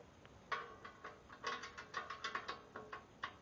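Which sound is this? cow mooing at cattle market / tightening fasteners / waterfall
tightening fasteners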